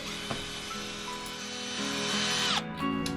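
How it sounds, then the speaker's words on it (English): A power drill whirs into wooden fence rails in short countersinking bursts, its motor pitch rising and falling as it bites, close and loud with brief pauses between. "I'm countersinking the rails now, just so when I screw it in it doesn't mess the wood up"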